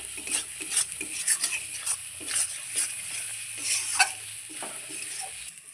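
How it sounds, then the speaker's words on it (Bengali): Dried Bombay duck (lote shutki) frying dry with spices, salt and turmeric and no water, a soft steady sizzle under repeated spatula stirs and scrapes against the pan. "মশলা, লবণ হলুদ দিয়েই মাছটাকে ভেজে নিতে হবে"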